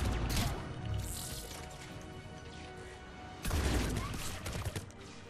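Turrets in Mass Effect 3 multiplayer rattle off rapid bursts of gunfire, two dense volleys separated by scattered shots and impacts, moderately loud and continuous through the stretch.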